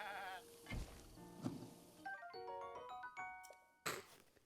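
Goat bleats from the video game The Legend of Zelda: Breath of the Wild, several wavering cries close by amid light game music and chimes, with no talking.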